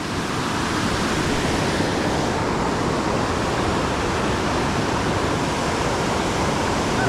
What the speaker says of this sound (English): So you can just walk right up to the edge of this ridiculous waterfall.